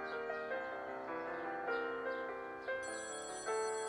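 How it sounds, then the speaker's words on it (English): A telephone rings inside the video game Copycat, giving a bright, layered electronic ringtone that repeats steadily for several seconds and plays alone at moderate volume. "The phone rings!"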